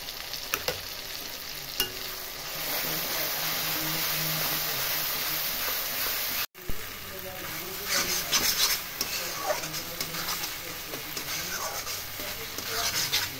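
Spice paste for Noakhali-style mustard rohu frying and being stirred in oil, a steady close sizzle with scraping stir strokes, briefly cut off midway, then resuming more unevenly.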